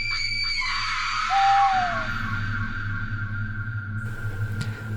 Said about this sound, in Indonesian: tiba-tiba terdengar suara teriakan histeris dari arah pabrik.